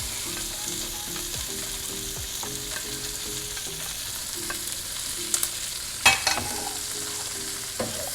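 Onions and peppers fry in a pan for Cajun shrimp and grits, giving a steady close sizzle with scattered utensil scrapes and a few sharper clinks toward the end.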